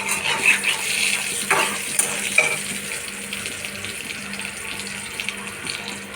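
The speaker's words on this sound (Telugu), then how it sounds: "10 నిమిషాల్లో తాలింపేస్తున్నాం" Spices for an amaranth curry temper in a hot pan, giving a steady hiss of frying with a few soft stirring scrapes and no talking.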